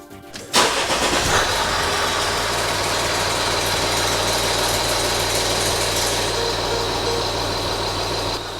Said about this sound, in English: The engine is also noticeably noisier on that first startup because it's pumping all the oil up to that oil filter